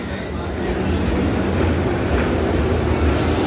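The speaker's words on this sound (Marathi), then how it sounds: "ट्रेन पण आलेली आहे" A Mumbai suburban slow train arriving at Dadar station rumbles and clatters close by, a loud, continuous mechanical roar with no break.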